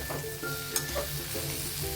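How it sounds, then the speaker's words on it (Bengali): Potatoes and okra stir-fry over medium heat for aloo bhindi, with a steady close sizzle and a few light scrapes of a spatula turning them in the pan. "এভাবে করে নাড়াচাড়া করে ভাজা করে নেব উলট পালট করে"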